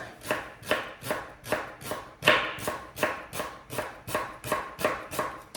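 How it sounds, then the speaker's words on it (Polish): A knife chops a piece of leek about 10 cm long into thin half-slices on a board, giving a steady, even rhythm of about a dozen crisp close taps with no talking. "Powiedzmy około 10 cm pora. I kroję go w cienkie półplastry."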